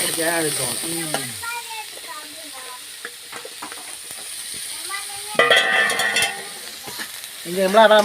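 Food sizzles and crackles in a hot pan while egg curry is being cooked, a moderate frying hiss with bursts of spattering. Voices talk intermittently over it.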